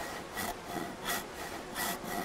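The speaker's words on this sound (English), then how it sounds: "I'm sawing." Rhythmic sawing strokes in a video game, three broad rasping pulses about every 0.7 seconds over a steady scraping background, fairly quiet with no talk.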